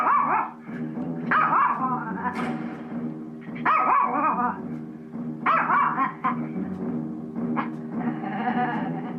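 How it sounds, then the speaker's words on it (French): A dog growls before going on the attack, a close, harmonic rumble rising into repeated bursts of barking with brief pauses between them. "Comme quand elle grogne avant de passer à l'attaque."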